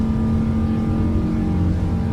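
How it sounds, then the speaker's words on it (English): Jet engines of a PMDG 777-200 in a flight simulator roar steadily during the climb after takeoff, a loud continuous drone with a strong low hum and no talking. "Listen to them engines"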